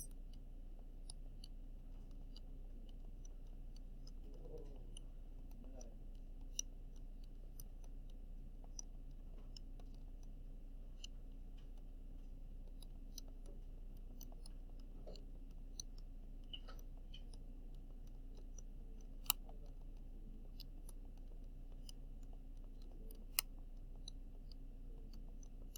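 Faint, sparse button clicks from typing values into a calculator, scattered soft ticks over a steady low hum in a quiet room.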